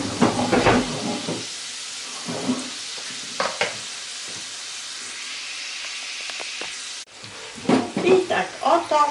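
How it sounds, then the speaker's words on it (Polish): Savory chruściki sizzle in hot fat, a steady close hiss of frying with occasional clinks and stirring, a brief pause, then bubbling resumes louder. "już wrzucamy na przygotowany tłuszcz, rozgrzany."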